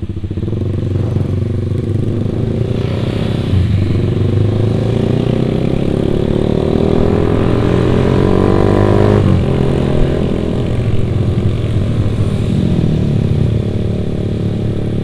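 Honda Sonic 150R motorcycle fitted with a Proliner TRT aftermarket exhaust, running loud and close with a steady throaty drone and rising, falling rev swells throughout, no talking.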